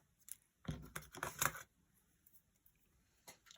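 Scissors snipping paper for a milk carton hexagon treat box, a quick cluster of crisp cuts in the middle followed by a couple of faint snips, close and quiet with no talking.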